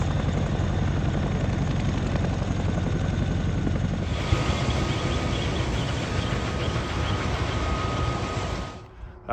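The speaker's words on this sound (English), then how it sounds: "I think it's a Chinook" A Chinook military helicopter drones loudly and steadily with a thumping rotor, its sound brightening partway through before dropping off sharply at the very end.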